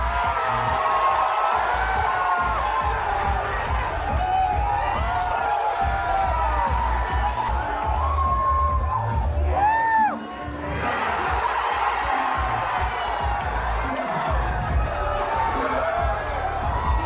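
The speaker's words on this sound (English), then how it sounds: "eventually the trailer is shown and the crowd's reactions are just" A large crowd cheers loudly at a Sonic 25th anniversary party as a game trailer is revealed, with whoops, shrieks and high whistles rising over a continuous roar of voices that briefly dips before surging again.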